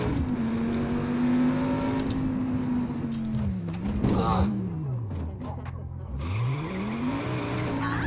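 A car driving in Just Cause 3, its engine drone rising and falling with revs, a brief tire squeal near the middle, close and steady, with someone talking over it.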